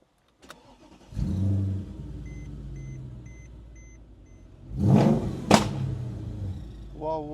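A Mercedes E63S AMG starting up: the starter cranks, the engine catches into a deep idle, then blips sharply twice before settling, close and loud, with a brief voice near the end.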